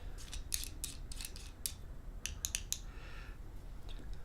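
The screw gate of a climbing carabiner is twisted open and shut, a series of small, close metallic clicks and scrapes in short bursts, quiet with no talking.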